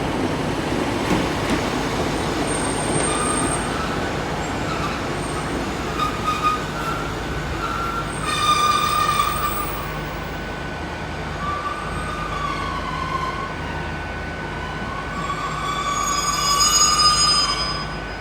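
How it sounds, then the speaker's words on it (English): A Great Western Railway service to London Paddington pulls away from platform 6 at Exeter St Davids, a steady rumble of the train with rising and falling wheel squeal and a brief high tone, fairly close and without talk. "that there is a Great Western Railway service to London Paddington, which I think is finally left on platform 6"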